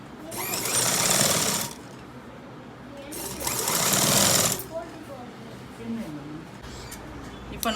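Two loud, sustained runs of a sewing machine stitching elastic casing on shorts, each lasting over a second, separated by quieter handling sounds, with a person talking softly in between.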